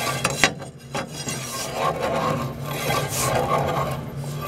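Metal tool scraping crud inside a boiler tube, a steady rasping back-and-forth rub with a few sharper knocks near the start, close and fairly loud.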